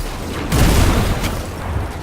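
A grenade detonates in Destiny 2 with a heavy booming burst, followed by rumbling aftershocks and a couple of sharper pops amid game noise.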